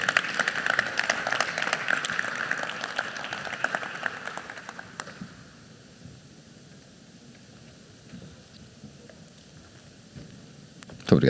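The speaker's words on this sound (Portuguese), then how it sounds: "Um aplauso, por favor" Audience applause at a Portimão 2019 talk event, loud and dense for the first five seconds, then fading into a quiet room hush before a brief bump at the end.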